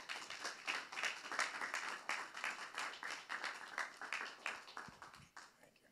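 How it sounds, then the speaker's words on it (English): Quiet, distant audience applause at a community talk about fathers, a scattered patter of clapping hands that swells and slowly thins out. "Let's give Dave Richardson another round of applause."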